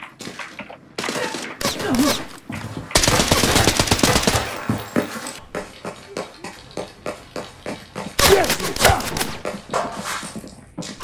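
Gunfire in the video game Arena Breakout Infinite: rapid automatic bursts and clattering shots, densest early and again late, with scattered single cracks in between, fairly loud against the game's ambient sound.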